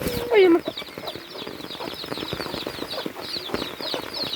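A hen clucking among farm fowl on a rainy day, with a brief louder squawk near the start followed by repeated soft clucks and scratchy chatter, fairly close.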